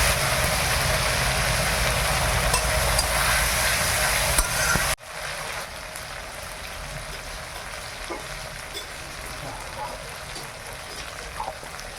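Ginger and a little turmeric fry in hot oil in a home kitchen, with a loud, dense sizzle that drops sharply halfway to a softer, steady crackle with faint scattered pops.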